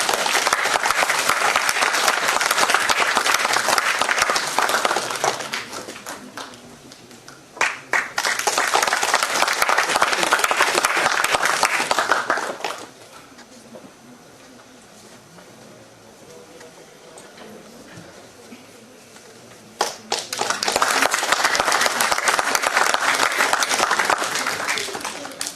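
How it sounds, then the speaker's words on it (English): Audience applause at a sports conference: two loud bursts of clapping from a large hall, a quieter lull with scattered claps and faint speech between them, then a third strong round of applause. "Please have a huge round of applause."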